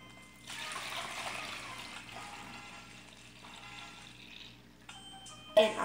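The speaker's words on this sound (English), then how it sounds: "now we're going to pour our jello into any mold that you would like to have" Liquid jello pours in a steady, soft trickle into an oval mold for several seconds, tapering off near the end before a brief clatter.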